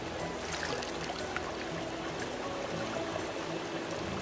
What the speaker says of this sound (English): this is water that's running in the streams outside, and it originates as glacier water